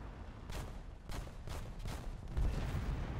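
Several sharp, distant gunshots crack out at irregular intervals over a low rumbling background, with no talking, in the video game War Thunder with a Me 262 aircraft.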